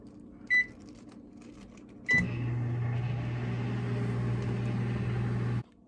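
A microwave oven runs with a steady low hum for several seconds, opened by a short beep and followed by a faint click, close by with no talking.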